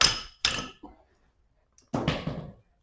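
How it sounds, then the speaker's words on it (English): A few sharp metallic taps of a hammer loosening the front brake bleeder valve on a Yamaha Virago motorcycle with dragging brakes, two quick strikes, then a pause and another ringing knock, close by and otherwise quiet. "You have to get a hammer because it's been a while."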